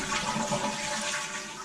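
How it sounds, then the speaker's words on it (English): A toilet flushes with a steady rushing of water that runs without a break for under two seconds. It comes up close, during checks on a slab leak. "let's flush the toilet and see what happens"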